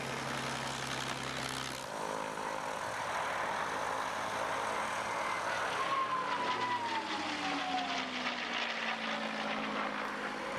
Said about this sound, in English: the throaty roar of the inline 12-cylinder Merlin Rolls-Royce supercharged engines that both planes used